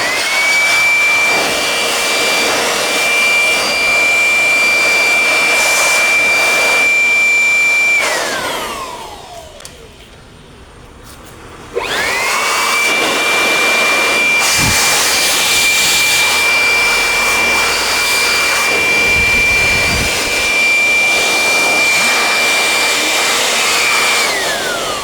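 A brand new electric air blower blasts dust out of a decade-old desktop PC, a loud, close, high-pitched whooshing roar that runs steadily, cuts off briefly near the middle, then spins back up and continues.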